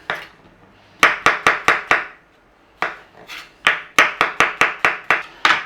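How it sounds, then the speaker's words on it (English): A knife slicing mushrooms on a cutting board, crisp close chops in quick bursts of four to six strokes separated by short pauses. "So just slice your mushroom."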